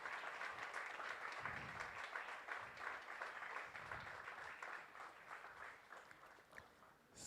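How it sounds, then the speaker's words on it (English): Steady applause from a crowd at a college campus event in Kalamassery, many hands clapping continuously at a moderate distance, with no voices over it. "Ladies and gentlemen, with a big round of applause."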